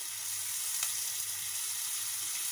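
Ginger garlic paste sizzling in oil with spinach in a pan, a steady, even hiss that continues close and unbroken with a faint low hum beneath, no talking.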